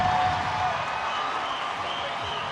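A boxing arena crowd at a Pacquiao vs Matthysse fight rises in a broad wash of cheering and applause that holds steady and fairly loud, slowly easing off.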